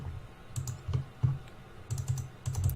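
Keys pressed on a computer keyboard during 3D modelling, a few close, distinct clicks and taps in small clusters, alone with no talk.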